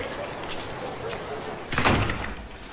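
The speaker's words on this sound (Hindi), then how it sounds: "दरवाजा बंद करो" A bathroom door is shut with a single solid thump-slam near the middle of the clip, set against steady background noise in an indoor scene.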